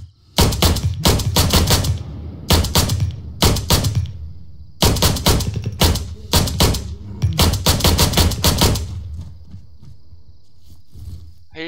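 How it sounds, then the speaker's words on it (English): Bursts of automatic gunfire in the Arma video game crack loudly and repeatedly in rapid clusters with short pauses between volleys, then fade to a low hum at the end. "Just fucking shoot him if you can get him."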